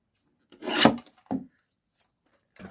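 Scissors trim a small piece off a patterned vellum strip, one longer rasping snip followed by a shorter cut, close and alone in a quiet room.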